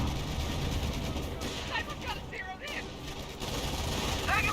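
A machine gun bunker in Company of Heroes fires amid battlefield noise, with rattling gunfire bursts and scattered impacts over a rumbling background, under talk.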